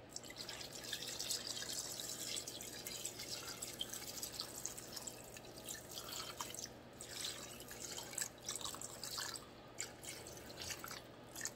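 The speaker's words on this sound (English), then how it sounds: "along with that, we want to add our water" Water pours over pork in a cooking pot, a faint continuous splashing and trickling with small drips, steady throughout and heard alone without voices.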